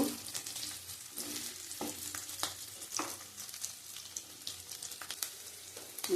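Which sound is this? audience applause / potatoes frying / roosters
potatoes frying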